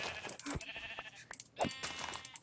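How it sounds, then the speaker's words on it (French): Sheep in the Minecraft video game bleat in a few short, close calls, one right after another, with no talk over them. "je suis en train de me battre contre des moutons"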